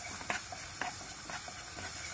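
Tomato paste sizzling in melted butter in a pan, a steady frying hiss with a few brief louder crackles and stirring sounds, no talk.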